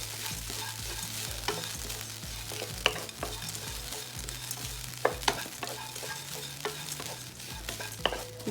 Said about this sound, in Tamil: இப்போ தேங்காவும் நல்லா வதங்கிடுச்சு.